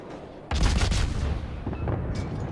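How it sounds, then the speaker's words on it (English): A torpedo hit on a warship in a World of Warships-style naval battle with a Gearing destroyer: a sudden heavy boom followed by a rumbling, fading explosion. "Wow, one more torpedo hit."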